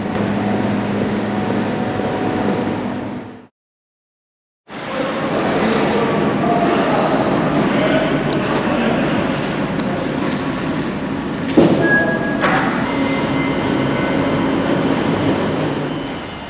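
A long Snälltåget overnight train runs into a station platform with a steady, loud rumble and rolling roar, briefly cut to silence near the start, then continuing with some clanks and a faint high squeal.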